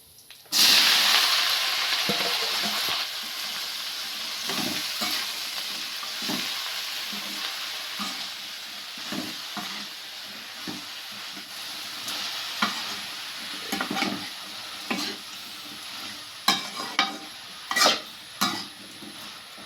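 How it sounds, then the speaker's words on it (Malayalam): Chopped colocasia stems dropped into hot oil with spluttering mustard seeds for a Kerala thoran, a loud burst of sizzling that settles into steady frying, with stirring scrapes and clinks toward the end. "കടുക് വറുത്തതിലോട്ട് നമുക്ക് ചേമ്പും തണ്ട് അരിഞ്ഞ് വെച്ചേക്കുന്ന ഇട്ട് കൊടുക്കാം."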